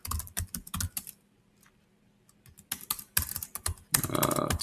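Computer keyboard typing during coding, quick bursts of clattering keystrokes separated by a near-silent pause, then denser rapid typing closing out the stretch.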